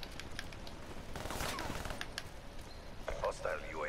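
Gunfire in a Call of Duty: Black Ops III team deathmatch, bursts of automatic fire and scattered shots mixed with game effects, running steadily under players talking over voice chat.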